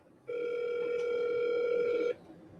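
A phone line ringing during an outgoing call, one steady electronic ring tone lasting nearly two seconds, clear and close, then cutting off into quiet.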